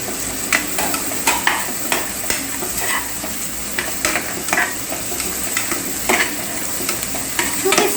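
Country chicken curry frying in a pan as tomatoes are added and stirred, with a steady close sizzle and a repeated clatter of a spoon scraping through the pan.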